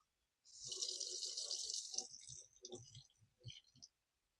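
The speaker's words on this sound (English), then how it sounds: "It's going to get a rinsing first." Water splashes and runs over a small plant's roots as they are rinsed, a steady close gush for about a second and a half, then broken drips and splatters before it stops.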